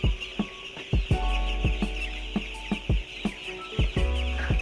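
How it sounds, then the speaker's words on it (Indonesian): Many eight-day-old broiler chicks clucking and peeping at close range, repeated short calls in an irregular rhythm over a low steady hum. "Ini adalah ayam usia 8 hari"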